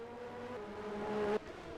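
Race cars on the straight at Paul Ricard in a racing video game, a single engine whining steadily higher in pitch before a sudden gear change cuts it off, fairly quiet and with no talk.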